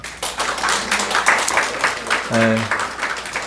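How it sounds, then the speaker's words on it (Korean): A church congregation at Sunday worship applauds two April birthdays, a lively round of clapping from a modest group rising quickly and holding, with a voice briefly speaking partway through. "박수로 축하하겠습니다"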